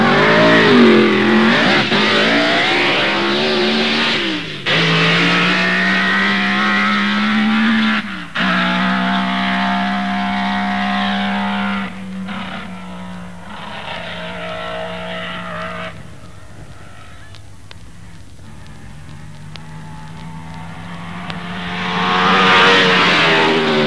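Supercharged Formula One Grand Prix race car engine running at about 70 pounds boost and over 500 brake horsepower, screaming loud and close through repeated rising revs and gear changes, then fading and returning.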